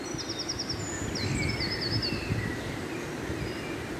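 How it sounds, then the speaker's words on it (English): Faint birds chirp and trill in short bursts over a low, steady outdoor rumble along the Water of Leith Walkway. "Listen to these birds."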